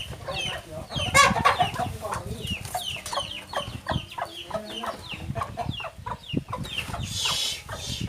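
Chickens clucking in a rural farmyard, with many short, overlapping clucks and squawks in an irregular rhythm at moderate distance, some louder close calls, under soft background noise.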